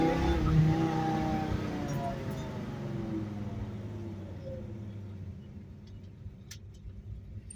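A 1964 big block car engine fitted with EZ-EFI rumbles and pulls under acceleration from inside the car, loud at first and then easing off to a quieter drone.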